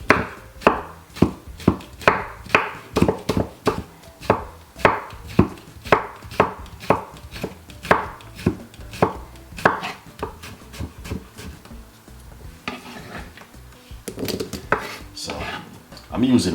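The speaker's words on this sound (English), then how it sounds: "I'm going to simply cut my cucumber very small" A knife chops a cucumber into small pieces on a board in a rapid, even series of crisp, loud knocks. The strokes pause and scrape briefly near the end, and no one talks.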